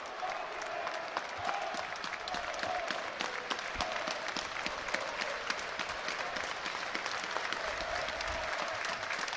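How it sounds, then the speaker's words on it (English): Football stadium crowd at a Falkirk versus Hibernian match applauding, steady dense clapping with a faint commentary voice underneath throughout. "Fans on their feet applauding their team."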